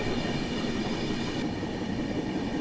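An Indian Railways passenger train runs at speed while overtaking the Grand Trunk Express, a steady loud rumble of wheels and carriage noise with faint rhythmic clatter throughout.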